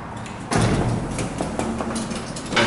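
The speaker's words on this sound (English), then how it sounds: "The doors are completely mechanical." Old, fully mechanical elevator doors with no upgrades in Brownsville, Texas, sliding open and shut with a loud rumbling slide and a few clunks.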